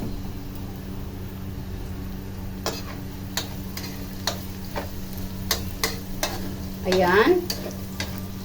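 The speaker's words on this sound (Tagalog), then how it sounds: "pagigisa ng bawang, sibuyas at luya" Garlic, onion, ginger and crushed black pepper sautéing in a pan, a steady low sizzle with scattered sharp ticks of a utensil scraping and stirring, and a brief louder clatter near the end; a voice speaks once briefly.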